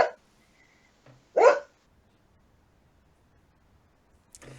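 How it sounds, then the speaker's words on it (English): A pet dog barks indoors in two or three short, sharp bursts spaced by silence, with a brief clatter at the end and no speech. "Sorry, that's my dog."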